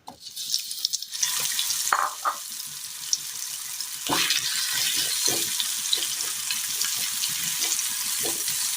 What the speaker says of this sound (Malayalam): ഇനി ഈ എണ്ണയിലേക്ക് നമ്മൾ ഈ മിക്സ് ചെയ്ത് വെച്ചിരിക്കുന്ന വഴുതനങ്ങ കഷ്ണങ്ങൾ ഇട്ട് കൊടുക്കാം